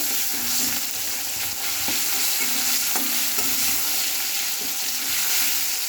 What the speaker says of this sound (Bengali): নুনটাকে টমেটোর সাথে ভালো করে মিশিয়ে নেব।